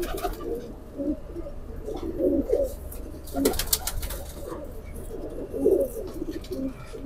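A Rampuri pigeon pair coos in soft, low, rolling bursts over a constant background hum, with a short burst of clattering noise partway through.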